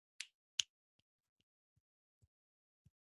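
Finger snaps close to a microphone: two sharp bright clicks in quick succession, then several much fainter snaps trailing off in near silence.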